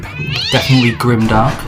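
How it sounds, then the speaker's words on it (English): A house cat gives a loud, close, drawn-out meow lasting over a second, while someone talks over it. "and that was my cat"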